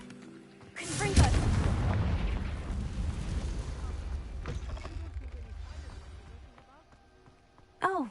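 A Confringo blasting spell bursts in Hogwarts Legacy, a loud booming blast with a long rumbling low tail that fades over several seconds, followed by lighter game effects and a short sharp sound at the end.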